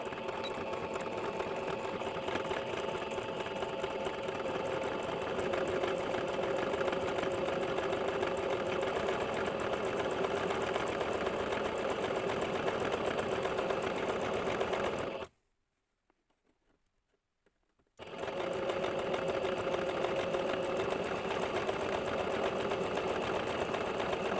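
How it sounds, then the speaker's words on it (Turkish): A sewing machine runs a steady zigzag stitch along the cut edge of skirt fabric, humming continuously. It stops for about three seconds, then starts again at the same even pace. "Kestiğim yerin kenarını zikzak dikiş yapıyorum."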